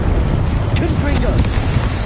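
A Confringo blasting spell goes off in Hogwarts Legacy, a loud, rushing fiery burst with a dense roar and crackle filling the whole moment.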